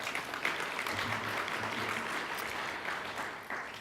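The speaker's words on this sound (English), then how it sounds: "So please give them all a round of applause." An audience at an innovation summit pitch contest applauds the judges, a fairly quiet, steady wash of clapping lasting a few seconds.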